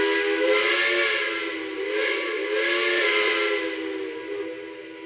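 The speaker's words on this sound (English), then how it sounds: "that's the other Pensy whistle, in case people want that." A Pennsylvania Railroad steam whistle on a model train engine blows a long, sustained multi-chime tone, loud and steady with a slight swell and dip in the middle, alone with no talk.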